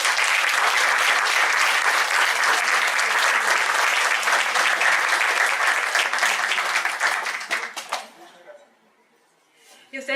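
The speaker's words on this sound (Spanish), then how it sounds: "Le damos un fuerte aplauso." An audience at a talk on the founding of Guayaquil gives officials from the municipal library and culture department a strong round of applause, dense and sustained for about eight seconds before it trails off into near silence.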